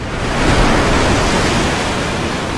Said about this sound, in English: Hey, look, water.